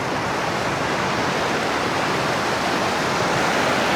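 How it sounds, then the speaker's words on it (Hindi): A natural waterfall drops from a great height beside the dusty road to Mahodand Lake in Swat, Kalam, Pakistan, producing a loud, steady, close roar of rushing water with no voices. "थोड़ा डस्टी है लेकिन अच्छा नेचुरल आबशार है।"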